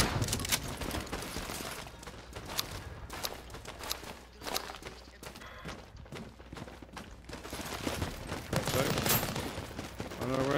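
Dense rattling gunfire from a World War 3 shooting video game, with rapid automatic bursts and scattered single shots filling the whole stretch as voices talk over the chaotic battle.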